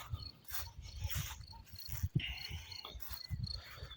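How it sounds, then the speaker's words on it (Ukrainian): Crickets chirp steadily in the background of an outdoor evening scene, with faint rustling and low rumbling noises underneath. "Що за цвіркуни?"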